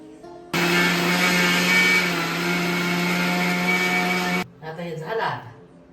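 An electric mixer grinder grinds ingredients into powder, a loud, steady motor whine lasting about four seconds before cutting off abruptly, followed by a voice talking.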